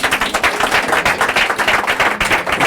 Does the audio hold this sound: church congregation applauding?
yes